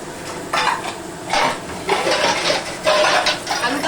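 A metal lid clatters onto a cooking pot holding a spicy Bengali pabda fish curry with potatoes, several bright clinks and scrapes in short bursts.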